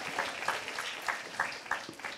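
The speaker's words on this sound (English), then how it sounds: "Let's give her a round of applause" A youth session audience at a Dragon's Den-style pitching event gives a short burst of scattered clapping, moderately close and fairly light, lasting only a couple of seconds.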